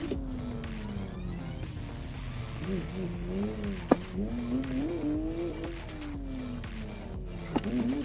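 A car drifts on snow in the Assetto Corsa racing game, its engine droning and rising and falling steadily through the slide with tire hiss and two sharp clicks, a voice talking over it.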